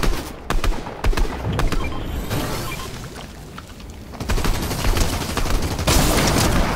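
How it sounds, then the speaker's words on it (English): Rapid bursts of gunfire and a few heavy booms in the video game Fortnite, crackling loudly in uneven volleys that swell and fade over several seconds. "I think they're being shot at"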